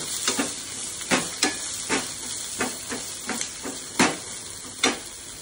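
Onions sauté with salt in a hot pan for a moringa flower and egg stir-fry, giving a steady close sizzle broken by regular sharp scrapes and taps of a stirring spoon, with no talking.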